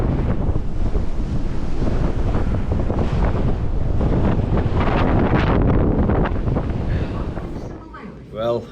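Strong storm wind buffets a microphone on a riverbank during a pike fishing trip, a loud constant roar and rumble that eases near the end, with a brief voice at the close.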